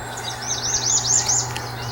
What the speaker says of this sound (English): the seagulls are still out there on the island in the rocks and making all kinds of noise this morning